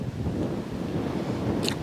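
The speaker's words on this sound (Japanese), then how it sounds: "波の音もいい。" Wind and ocean surf on a Yoron Island beach blow as a steady, broadband rush, with a faint brief hiss near the end and no voices.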